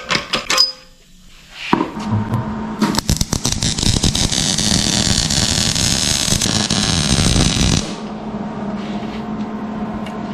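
Arc welding on an AC compressor bracket for a low-mount LS engine swap: a steady, loud crackling hiss runs for about five seconds, preceded by short clicks and taps, then cuts off into a quieter hum.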